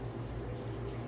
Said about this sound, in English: We're frying these suckers today.